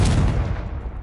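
A Confringo fire spell blasts in Hogwarts Legacy, a loud booming burst with a dense rumbling body that decays over about a second, heard alone.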